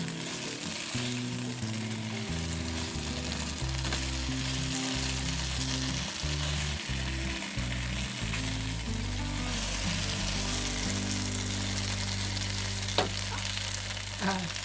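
Eggplant and mushrooms sizzle and crackle loudly in hot oil, a steady frying hiss with scraping and tossing sounds throughout.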